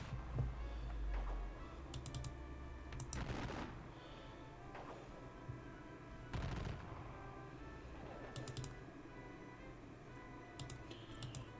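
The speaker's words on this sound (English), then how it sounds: "Kindly go there and start exchanging more gunfire." Faint, distant musket gunfire crackles in bursts from a Napoleonic Battle of Aspern-Essling strategy game, scattered volleys over a low rumbling background with no clear talk.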